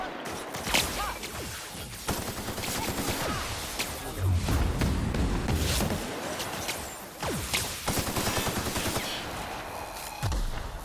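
Video game gunfire in repeated bursts and single shots, fairly close and loud, with crashes and whooshes mixed in over a dense game soundtrack.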